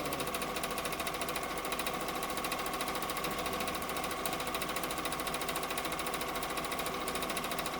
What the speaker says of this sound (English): it seems to be stitching great